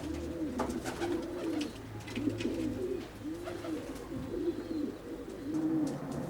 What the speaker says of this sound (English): These are his natural pigeons out for their evening fly.